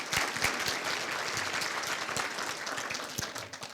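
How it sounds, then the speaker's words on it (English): An audience at a university scholarship ring banquet breaks into applause, many hands clapping in a dense, steady patter at moderate volume for several seconds. "Give a round of applause for him."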